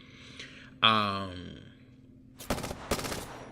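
Weapon fire in the video game Apex Legends, heard as two sharp bursts of rapid shots near the end, following a tonal game sound and low background noise.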